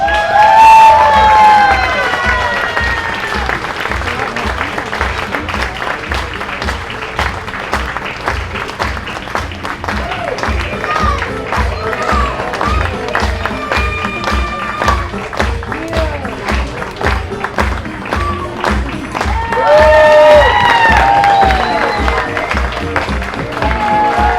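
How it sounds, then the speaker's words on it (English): Audience applause and cheering for fencing performers from an athletic fencing foundation after a skit at a gala, steady and full throughout with scattered whoops and shouts from the crowd. "a final round of applause"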